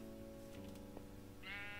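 A sheep in the Minecraft video game gives two quavering bleats, faint and fairly close, the second higher and wavering.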